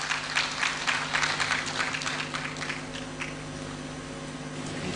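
A conference audience claps together in a dense, crackling wave of applause that stays fairly loud and steady for several seconds before easing slightly, with no speech over it.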